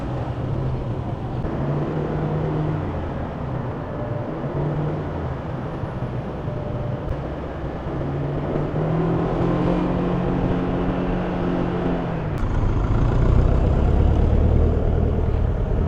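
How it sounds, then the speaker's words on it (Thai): Steady low engine rumble and road noise from a car stuck in heavy traffic, idling and creeping forward with occasional revs, continuous and close throughout. "รถติดมากคุณเพื่อน"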